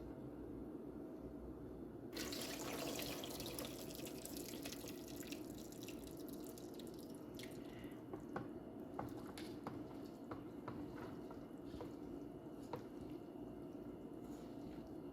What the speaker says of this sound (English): You have to drain the water from the rice.